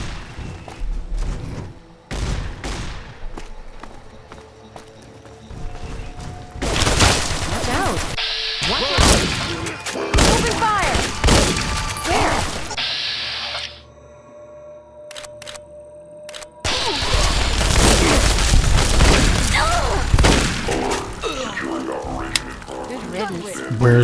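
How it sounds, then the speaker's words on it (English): Riot shotgun fire in Fallout: Tale of Two Wastelands, loud broadband blasts and crashes recurring through a busy wasteland firefight, mixed with game sounds and voices talking over it. "Who's firing off their riot shotgun?"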